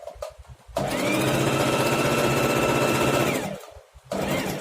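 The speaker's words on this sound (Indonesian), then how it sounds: "Awal menjahit pastikan selalu ditusuk 2 kali tusukan. Udah tinggal dijahit." A Singer 4423 portable sewing machine stitches along the edge of a shoe in one long, fast, continuous whirring run, bracketed by a few short bursts of needle action before and after.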